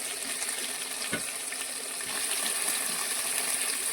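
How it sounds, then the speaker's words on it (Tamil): Prawns tossed into a pan of garlic, onion and curry leaves frying for a prawn curry give a steady, close hiss of sizzling oil, with one brief clatter early on. "பூண்டும் வெங்காயமும் கொஞ்சம் வதங்கினா இறால் போட்டுக்கணும்"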